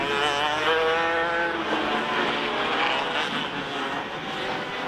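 TAG 125 Masters karts racing in a 20-lap final at the 2017 Victorian Kart Championship, loud high-pitched two-stroke engines whining and passing close, continuous throughout.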